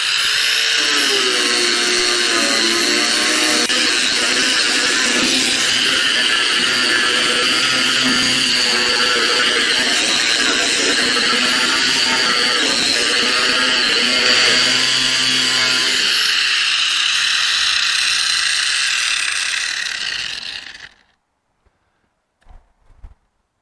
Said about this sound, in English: And it's on a Harbor Freight angle grinder, which I've been very happy with.